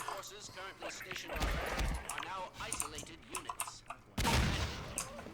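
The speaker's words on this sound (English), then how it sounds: "I need to shoot my way out of here" Gunfire in the video game Half-Life 2: Episode One comes as a few scattered shots, with a louder, heavier burst near the end, mixed under game voices and background noise.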